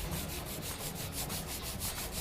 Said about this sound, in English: I'm just actually using 220 grit sandpaper to prep this area right here.